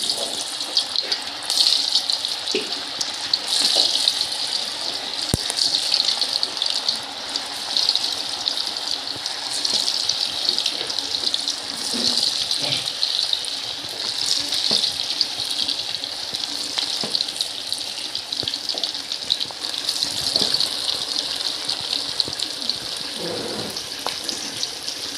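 Fish kofta balls fry in hot oil, giving a steady, loud, close sizzling hiss that runs throughout with small crackles and faint clinks from handling.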